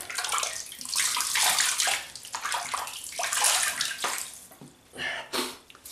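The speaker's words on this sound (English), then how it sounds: "so just wet the face" Running tap water splashes and spatters nearby as hands wet a face before shaving, a continuous faint gush with brief interruptions and sloshes.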